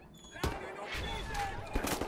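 Assault rifle fire in the shooter game Wolfenstein, loud bursts of shots near the start and again toward the end, separated by a brief quieter stretch.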